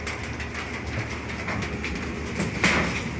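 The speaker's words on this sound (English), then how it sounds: "Ooh, and this hail's starting to hit hard again." Quarter-size hail pelts down hard in a Colorado Springs storm, making a dense, steady clattering roar with a sharper, louder impact burst near the end.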